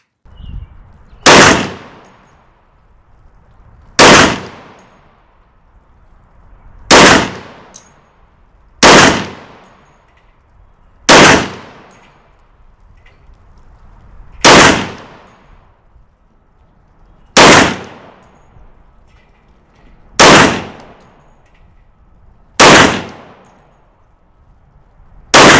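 A .460 Rowland pistol firing Underwood jacketed hollow-point rounds, with about ten loud, sharp gunshots at irregular intervals a few seconds apart, each followed by a brief ringing decay.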